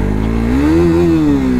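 Engine of a crashed KTM RC 390 motorcycle with a faulty throttle, heard close and loud, its idle rising into a steady rev and then easing back down.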